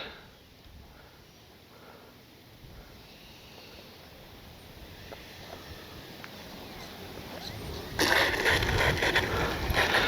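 Gusting wind buffets the microphone at an RC field where an Arrows F-86 64mm EDF jet flies, a steady low rush that swells much louder and harsher near the end, with no voices.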